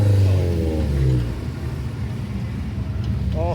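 Honda race cars pull away from the assembly area at Brands Hatch, engines rising loudly and close at first, then settling into a steady nearby drone as they move off, with a voice briefly heard over them.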